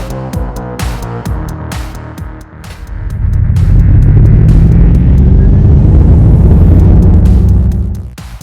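A 2021 Ford Mustang Mach-E, a dual-motor all-wheel-drive electric car, launching hard in an acceleration run: faint clicks first, then a loud, sustained rushing whine and road roar that swells and holds for several seconds before easing off.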